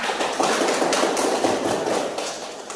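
Students in a class clap their hands together, a short, dense burst of close, sharp claps that fades slightly at the end.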